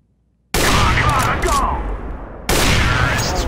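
Video game gunfire in a one-on-one match: after a moment of near silence, a loud burst of rapid shots erupts and rings on, then a second loud volley hits toward the end.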